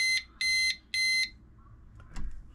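Electronic keypad deadbolt sounding three loud, evenly spaced electronic beeps after a factory reset, followed by a soft click and a brief rustle, no voices.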